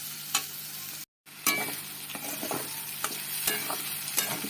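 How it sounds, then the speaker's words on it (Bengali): Masoor lentils fry on low heat while being stirred, a quiet continuous sizzle broken by sharp scraping strokes of the spoon, with a brief dead silence near the start. "ডালটা ভাজা হচ্ছে"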